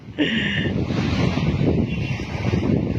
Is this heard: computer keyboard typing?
no